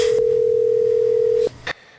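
A steady telephone dial tone hums loudly for about a second and a half, then cuts off with a couple of brief clicks as a call goes through to a podcast guest.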